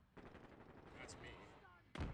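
Carbine gunfire in Modern Warfare 2, hip-fired in a rapid automatic burst with dense repeated cracks, followed after a brief lull by a loud final blast near the end.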